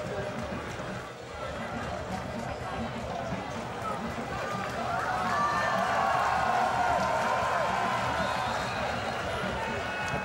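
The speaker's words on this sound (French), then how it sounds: "Applaudi par les membres associés." Crowd noise from a football stadium during an Ivorian Ligue 1 match between Africa Sports and ASEC Mimosas, greeting a substituted player. The crowd roars steadily and swells louder partway through, beneath continuous commentary.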